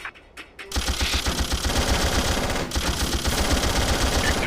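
Sustained automatic gunfire in the SOCOM Fireteam Bravo video game, loud rapid bursts of rifle shots continuing almost without pause after a short quieter opening.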